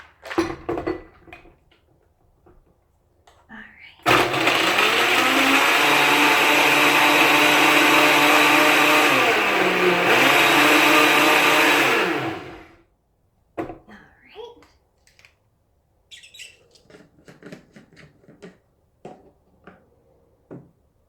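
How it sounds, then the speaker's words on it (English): A blender roars loudly for about eight seconds, its pitch shifting as it churns ice for a kava colada, with quieter clatter and brief talk before and after. "I have my ice cubes in there already, so I'm going to close this up, and we're going to let our blender do the work."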